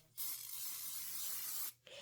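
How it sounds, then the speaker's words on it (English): Spray adhesive hisses onto quilt batting in a single close burst of about a second and a half, starting and stopping abruptly, with no speech. "I'm going to give it a little shot of spray."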